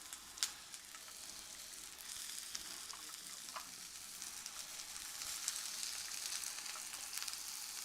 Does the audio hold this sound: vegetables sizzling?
yes